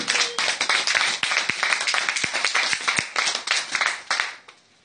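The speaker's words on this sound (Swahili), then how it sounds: "Hebu tupigie Bwana makofi makubwa." A church congregation at a Bible study and prayer meeting claps loudly for the Lord, a dense stream of many hands clapping close by, with a faint voice at times, before it fades out.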